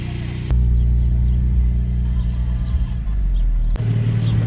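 Porsche Spyder sports car driving, a deep, steady, loud engine rumble heard from close by, with a sharp bump near the start and a shift in pitch near the end.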